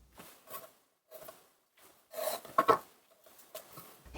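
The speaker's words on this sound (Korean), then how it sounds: "흰지단도 썰게요" A knife cuts through a thin white egg garnish on a cutting board, giving several soft, separate taps and scrapes with quiet gaps between them and a louder cluster of cuts in the middle.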